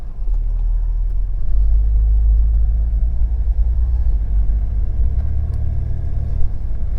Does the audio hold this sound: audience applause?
no